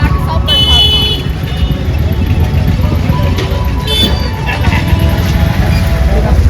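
A busy street near Naya Ghat on the Sarayu river, with bikes, auto-rickshaws and cycle rickshaws making a dense, continuous hum of engines close by. Horns toot now and then, and people talk over the traffic.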